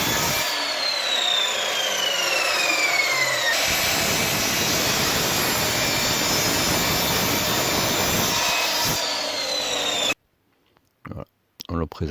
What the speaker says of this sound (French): On coupe à la bonne longueur, à la scie radiale.